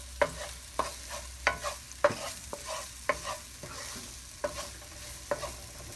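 Onions sautéing in a pan for chicken adobo, a soft continuous sizzle punctuated by about a dozen distinct clicks and scrapes of a utensil stirring against the pan, quiet and close, with no voices.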